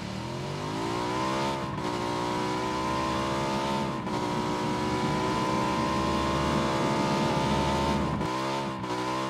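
Engine of a vehicle in PUBG driving across the Miramar map, a steady droning motor with rising and falling revs and brief shifts in pitch, loud and close with no talking.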